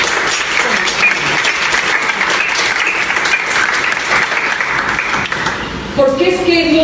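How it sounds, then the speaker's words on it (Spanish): A church congregation claps and cheers in sustained, loud applause through a Spanish-language sermon service, a steady dense wash that holds to the end, where a voice breaks in briefly. "Oiga, denle una aplauso al Señor."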